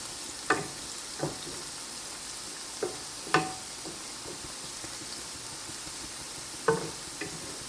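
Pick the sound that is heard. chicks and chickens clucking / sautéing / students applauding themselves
sautéing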